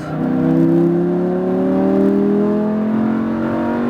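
A Lamborghini Huracan engine pulls hard under acceleration at a driving course, its loud, smooth tone rising steadily in pitch through a single sustained surge with no speech.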